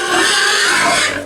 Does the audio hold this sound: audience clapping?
no